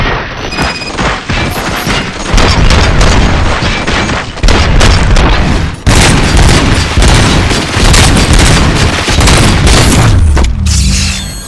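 Dense, loud gunfire and booming explosions from the RoboCop: Rogue City shooter game, a sustained barrage with brief dips, near and overwhelming.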